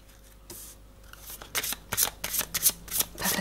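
Large tarot cards are shuffled by hand in a run of crisp riffling bursts that grow denser and louder toward the end, close and without talk.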